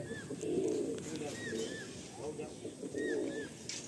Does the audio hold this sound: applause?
no